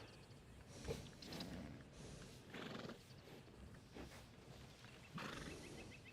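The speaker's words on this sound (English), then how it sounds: "Beautiful horse though." A horse in Red Dead Redemption 2 gives several whinnies and snorts with hoof clip-clops, the calls rising and falling in separate bursts, faint and distant-sounding.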